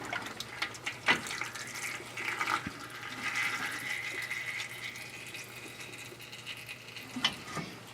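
Drive train fluid drains from a 2018 Chevrolet Silverado, a continuous trickling, gurgling pour with a few louder splashes and clunks, fairly quiet throughout.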